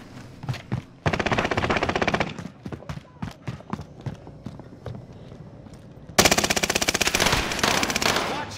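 Machine gun fire in a video game: loud sustained automatic bursts at the start and again near the end, with scattered single shots and thuds in between.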